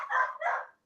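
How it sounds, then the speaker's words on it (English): Dogs bark nearby in a home, two short sharp barks in quick succession, then silence. "Sorry for the dogs."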